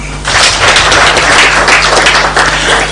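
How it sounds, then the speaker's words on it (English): An audience claps loudly and steadily for a speech at a climate finance conference, a dense continuous wash of applause from start to finish. "A clap for him."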